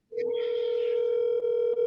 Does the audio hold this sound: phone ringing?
yes